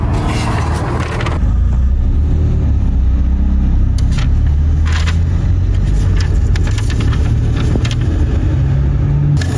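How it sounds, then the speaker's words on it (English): Lamborghini with a loud exhaust idling and rumbling deep and heavy close by, a steady throbbing drone with a brief louder surge at the start and faint clicks and noises over it. "It's not because of your loud exhaust."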